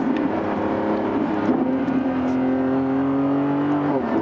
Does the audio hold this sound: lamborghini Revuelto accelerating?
yes